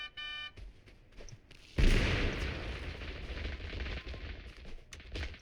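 A splinter grenade detonates in the video game TABG with a loud, broad blast whose rumbling roar lasts several seconds, preceded by a short electronic beep.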